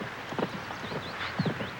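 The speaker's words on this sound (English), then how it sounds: "We'll start with a slow canter." Hooves of a horse at a slow canter clip-clop in an uneven rhythm of soft thuds, fairly faint and close, with a few higher whinny-like squeaks over the footfalls.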